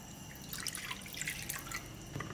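Water trickles and splashes into a bowl where salt has been added to make a sauce for boneless chicken feet with lemongrass and kumquat. It is a steady close pouring for about two seconds, with no talking.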